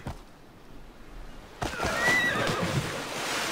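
In the video game Assassin's Creed Odyssey, a horse lets out a loud, close whinny after a quiet stretch, with hoof clip-clops and rustling around it.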